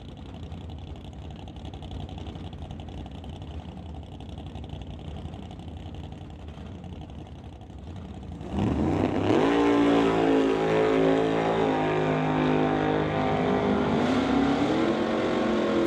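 Hawaii 5.0 Mustang drag car at a West Coast Outlaw Shootout drag race, idling steadily with a rough rumble for about eight seconds, then launching into a sudden, loud, sustained full-throttle roar with climbing revs.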